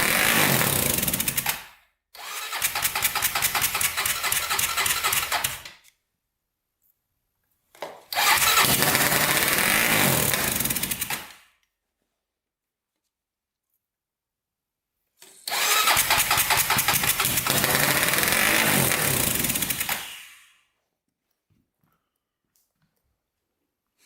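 A turbocharged Honda 400ex quad engine runs rough in three loud close bursts, cranking and catching, then cutting out with silent gaps between.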